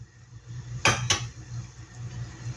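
A pot lid is set onto a cooking pot of simmering bitter melon and ground meat soup, giving two sharp metallic clanks close together over a low steady kitchen hum, with another clink at the end.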